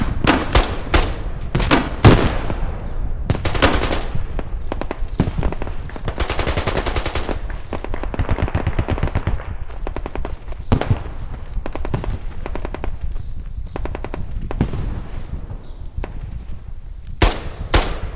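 Heavy weapons fire in a video game, with mortar rounds incoming amid dense, continuous bursts of rapid gunfire and sharp loud blasts spread across the whole stretch, no talking.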